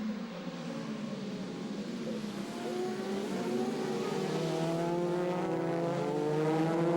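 A Red Bull Audi DTM race car at the Nürburgring in 2006 accelerates hard on the opening lap, its engine note climbing through rising gear sweeps. Loud and close from on board, with no voices.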